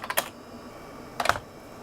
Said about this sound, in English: This keyboard is horrible, by the way.